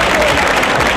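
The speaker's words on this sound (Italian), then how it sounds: "Ancora più forte questi applausi" Loud, dense applause from an audience at an award ceremony, filling a short moment with steady clapping and no break.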